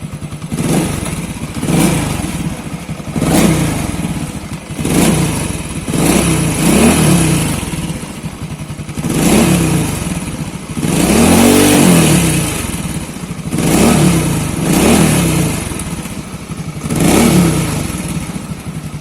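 A Honda Wave 100 motorcycle engine, its headlight dim, revs up repeatedly from idle in rhythmic surges over a steady running drone, loud and close with no talking.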